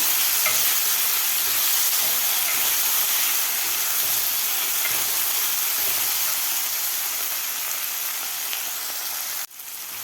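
Chopped tomato and onion sauté in a pan with a loud, continuous sizzling hiss and soft stirring, a steady close crackle that dips briefly near the end.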